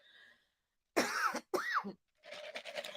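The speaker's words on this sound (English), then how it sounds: "And I'm coughing, but so what?" A person coughs twice in quick, harsh bursts close to the listener, followed by a raspy throat-clearing sound.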